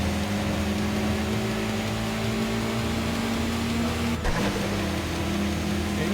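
A turbocharged car engine in Tokyo Xtreme Racer holds a loud sustained drone with a whirring turbo tone, then briefly dips and shifts pitch near the end, like a gear change.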